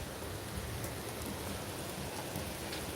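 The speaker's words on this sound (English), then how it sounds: "Yeah, it's raining. It's raining a lot here." Heavy rain pours onto a roof in a dense, unbroken hiss, steady and fairly close, with no voices over it.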